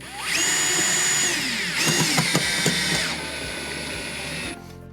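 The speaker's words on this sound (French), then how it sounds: "On voit qu'on tient la vis et la visseuse d'une main, on vient positionner son sabot exactement à l'endroit où on le veut" A cordless screwdriver drives a Würth ASSY wood screw through a joist hanger, a loud, close whine that rises in pitch, stutters briefly as the screw seats, then runs on steadily before cutting off.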